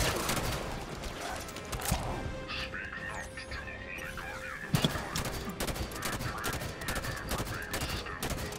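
Bursts of rapid gunfire from a Halo 5 firefight crackle through continuous game sound effects and music, with a louder impact partway through, while a voice talks over the action.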